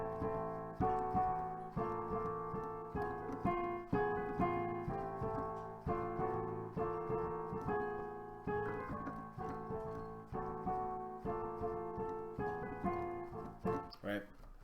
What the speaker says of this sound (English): I'm just holding the A as a bass note and changing the chords above it